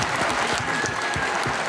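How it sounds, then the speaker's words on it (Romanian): Sustained audience applause at a live children's show after a three-year-old's performance, dense and steady throughout with no speech over it. "Hai să aplaudăm acești 3 ani talentori."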